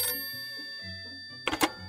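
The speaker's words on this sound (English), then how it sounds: "when the phone rang" A telephone rings in a children's storybook reading, a bright metallic ringing burst near the end following a stretch of sustained musical tones.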